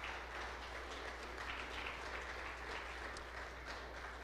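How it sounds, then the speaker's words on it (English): A church congregation claps together for a group being honored at a Sunday service, producing a steady, dense wash of applause at moderate volume that holds evenly throughout, with no talk over it. "we can clap for them"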